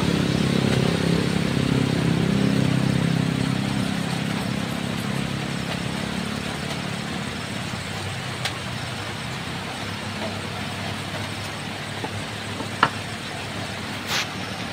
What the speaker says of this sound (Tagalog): Medyo maano po dito kasi daming dumadaan na motorcycle, motorsiklo.